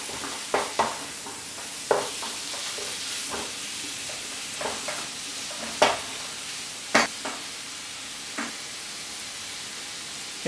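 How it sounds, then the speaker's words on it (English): Beef tossed with curry spices in a hot pan for Durban bunny chow, a continuous close sizzle punctuated by regular scraping and knocking stir strokes every second or so; nobody speaks. "So get that beef coated up in all those spices."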